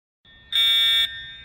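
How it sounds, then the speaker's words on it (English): Fire alarm sounding in a classroom: a steady, loud electronic tone that starts faintly, then swells into a harsh, buzzing ring for about half a second before falling back to a quieter sustained tone. "Oh no class, it's a fire alarm"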